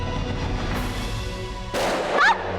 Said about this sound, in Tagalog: Patok ng baril nila!